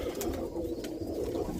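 Roller pigeons in a kit coo close by, a soft, continuous run of low throaty murmuring calls with a few faint rustles over it.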